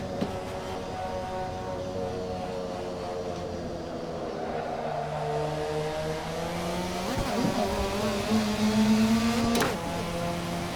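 A racing video game car engine droning steadily, its pitch sliding down as it downshifts under braking, with a short tire squeal and a brief rise in revs near the end.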